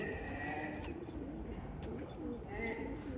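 Pigeons coo on a goat farm, a soft repeated murmur low in a steady outdoor background, with brief higher calls breaking through now and then.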